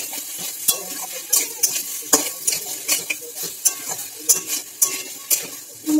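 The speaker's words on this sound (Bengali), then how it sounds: "হলুদটা দিয়ে ভালোভাবে মিশিয়ে নিচ্ছি।" Turmeric being stirred into fried spices and potatoes in a pan, a rhythmic series of spoon scrapes and clinks, roughly a dozen strokes, over a soft background sizzle, close and fairly loud with no speech.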